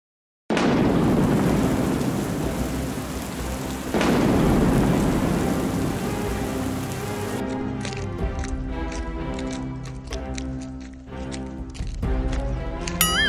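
A thunderstorm rumbles with loud, sustained thunder over steady heavy rain, a second crash rolling in partway through before the downpour patters on.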